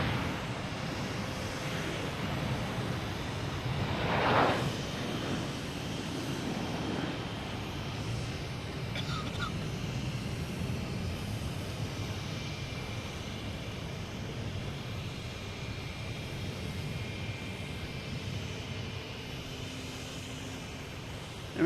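An American Airlines airliner at Boston Logan Airport makes a loud, steady engine roar that swells early and then holds as a broad continuous rumble for about twenty seconds, heard from a distance at the airfield.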